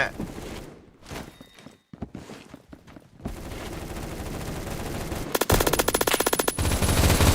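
Gunfire from a Roblox game gun sounds in sharp bursts, first scattered single shots with brief gaps, then dense rapid automatic fire growing louder toward the end.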